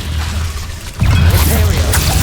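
A Confringo blasting spell goes off in Hogwarts Legacy: a sudden whooshing burst with crackling debris over a low rumbling game soundscape, close and loud, and no talking.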